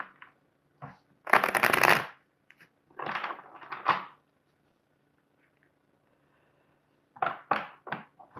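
Tarot cards being shuffled by hand, in several short crisp riffling bursts separated by quiet gaps, close and clear with no talking.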